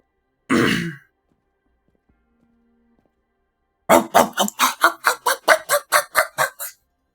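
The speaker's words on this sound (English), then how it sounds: "let me just clear my throat real quick." One rough throat clearing, a pause, then a rapid run of about a dozen harsh, guttural hacks, close and loud.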